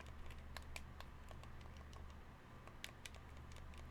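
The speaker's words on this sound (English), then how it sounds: "That's why it sounds like I'm clicking more buttons than I'm actually hitting, because I'm just constantly pounding on the keys." Computer keyboard keys tapped rapidly and constantly during gaming, a quiet, dense patter of clicks with no voices.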